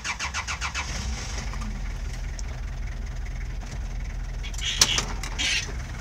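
A 1995 LTI Fairway London taxi's 2.7 litre Nissan diesel engine cranks with a rapid run of starter pulses, catches, and settles into a rough, clattering idle, with a sharp click partway through.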